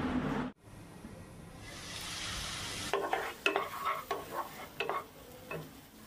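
Spice paste frying in oil in a pan for Bengali prawn curry (doi chingri) gives a steady close hiss, then a run of rhythmic stirring scrapes and sputters.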